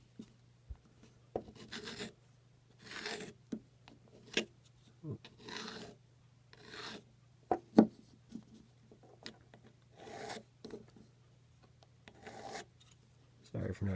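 A metal file rasping a burr off the tip of a spinning top, in short scraping strokes spaced irregularly, fairly close but quiet, under a low steady hum.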